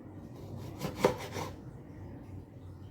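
A knife cuts a large, seedy lemon into small pieces, making a brief run of quick, quiet scraping strokes that fades into a faint room background.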